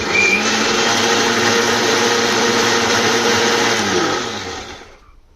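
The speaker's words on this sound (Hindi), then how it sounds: "और फिर हम दोबारा इसको ब्लेंड करेंगे।" A loud blender whirs steadily at close range while blending thandai, a cooling drink, then winds down and stops near the end.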